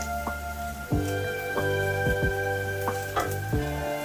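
Curried eggplant simmers in a pot, a steady sizzle with soft stirring scrapes and clinks recurring every half second or so, close up with no talk.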